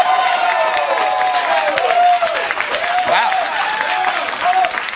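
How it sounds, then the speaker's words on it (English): A television studio audience bursts into applause and cheering, a loud, dense crowd roar with a voice speaking over it. "They are applauding a statistic."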